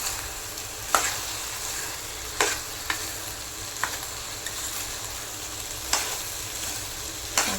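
Cooked rice is stirred into mango rice in a pan, with a gentle sizzle underneath and regular sharp spatula scrapes and taps against the pan every second or so.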